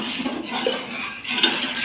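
Fried rice being stirred in a hot pan, giving a steady sizzling hiss with soft scraping and clinking of utensil against metal, close and continuous with no voices.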